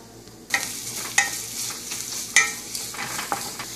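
Chopped onions sizzle and crackle steadily in oil in a pan, with a few sharper bursts of spitting and stirring scrapes, close and fairly loud.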